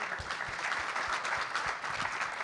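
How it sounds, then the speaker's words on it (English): Audience applause for the panelists at a conference side event on Africa's small-business sector, a steady moderate wash of many hands clapping throughout, slightly distant and without talk. "Warm round of applause to our panelists"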